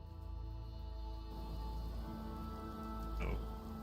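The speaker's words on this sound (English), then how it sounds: "Oh, and it's raining." Steady rain hiss in the video game Fallout 76, running without a break under sustained ambient game tones, with one brief brighter swell near the end.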